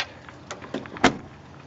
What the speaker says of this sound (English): Close the hood.